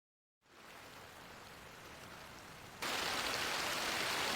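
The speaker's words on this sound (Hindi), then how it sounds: "मुझे तो लगा था रात में हल्की बारिश होगी, पर ये तो उम्मीद से ज्यादा है।" Heavy rain at night begins after a moment of silence as a steady hiss, then suddenly grows louder and denser partway through, continuing as an even downpour with no voices.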